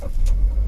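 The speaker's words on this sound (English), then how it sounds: "So all you gotta do is push from the brake and push the start button." A 2017 Subaru Forester XT with a 2-liter turbocharged boxer engine, started by push button, giving a brief low rumble as the engine catches and settles.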